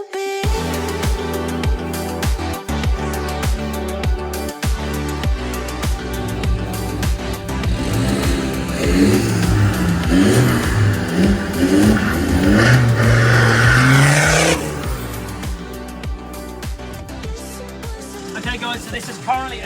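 A Land Rover Defender 90 TD5 15P diesel engine with a stage 4 side-exit straight-through exhaust revs loudly and close up, its rough note climbing in pitch through repeated blips before dropping back to idle, with voices at times.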